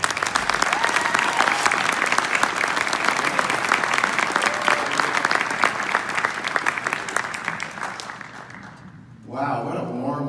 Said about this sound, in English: Give it up for Kevin.